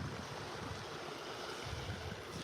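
Ocean surf at Vanderbilt Beach in North Naples, Florida, on a foggy morning with the tide going out: a steady, dense wash of waves and wind, moderately distant and even throughout.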